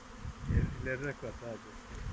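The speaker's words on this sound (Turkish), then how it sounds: "Şimdi şu önünde yoğun arı görünen kovan oğul çıkarıyor." Honeybees swarming from a hive buzz in a dense, fluctuating drone, with individual bees whining past up close.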